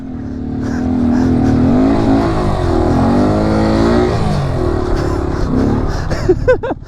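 A Honda Grom motorcycle engine revs loudly and steadily while riding off-road, the pitch rising and falling as the throttle shifts. It ends with a few sharp, higher blips.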